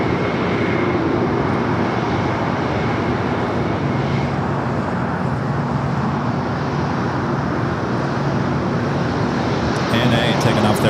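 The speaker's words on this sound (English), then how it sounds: "ANA taking off there on the north side." An ANA airliner takes off on the north side at LAX, giving a constant heavy engine roar from a distance with traffic-like noise, while a voice talks over it.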